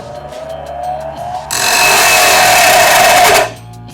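An Ickler Company 4x60 belt sander runs up from a lower hum into a loud, steady whine of belt and motor for about two seconds, then spins down.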